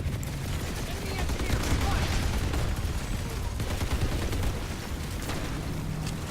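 Rocket launchers pound enemy phalanx turrets in a video game battle, a loud, dense barrage of blasts and crackling gunfire that rolls on without a break.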